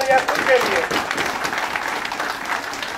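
Listeners at a Hindi kavi sammelan poetry gathering in a university setting break into brief, lively applause, a crowd of hands clapping together loudly at first and then settling into a steady patter.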